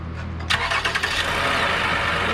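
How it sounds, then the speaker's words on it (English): A 2010 Lexus RX350, just back from an engine oil cooler hose replacement, starts by remote start: a short starter whir and catch, then the engine settles into a steady idle. "Engine start soon."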